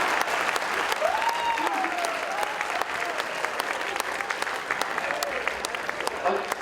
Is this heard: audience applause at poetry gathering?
yes